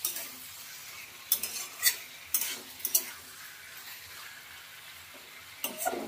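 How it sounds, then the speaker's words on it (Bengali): A spatula scrapes and stirs tomato, onion and potato frying over a medium gas flame in a pan for fish curry, with a soft continuous sizzle and several sharper scraping strokes close by, no talking. "গ্যাসটাকে মিডিয়ামে রেখে ভালো করে কষিয়ে নিতে হবে।"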